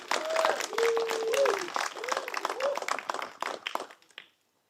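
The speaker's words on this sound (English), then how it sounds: "let's give a round of applause for Samantha" An audience at a Safari Guide of the Year night event gives a round of applause, with brisk clapping mixed with whoops and cheering voices before it cuts off abruptly.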